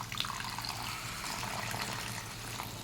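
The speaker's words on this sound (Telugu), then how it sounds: "కొద్దిగా వాటర్ కూడా మనం వేసుకోవాలి" Water added to a simmering Andhra-style egg masala curry, heard as a steady, close pouring and splashing hiss that runs evenly for the whole stretch with no talking.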